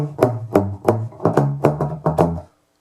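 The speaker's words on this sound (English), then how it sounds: "big, room-filling, warm, fat tone that are coming from a beautiful set of tubes" Deep, warm bass notes from a 1960s Rickenbacker bass through a tube Ampeg B-15 amp, plucked in a steady rhythm, each attack sharp and then ringing briefly, filling a room before stopping abruptly.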